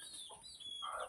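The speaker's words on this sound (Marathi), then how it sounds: "हे आमचे कोंबड्या." Chickens clucking in a home yard, including a big rooster, a hen and her chicks, several short soft clucks close by with no talk.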